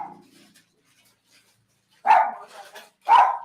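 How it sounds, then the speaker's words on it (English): Dogs barking outdoors, two sharp bark bursts near the end of a quiet stretch, with a faint yelp at the start. "Sorry, there's dogs."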